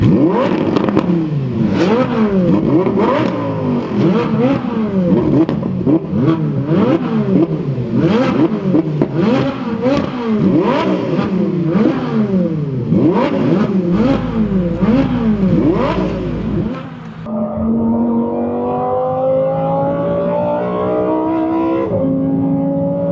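A Lamborghini Huracán STO or Ferrari 458 Speciale engine revs hard and repeatedly on Putnam Park Road Course, climbing and dropping through the gears with a loud, rasping roar, then settling into a steadier drone.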